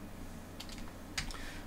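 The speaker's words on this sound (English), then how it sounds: "I hit delete on my keyboard to remove it" Keys on a computer keyboard are pressed in a few faint, close clicks: a short cluster, then one sharper tap.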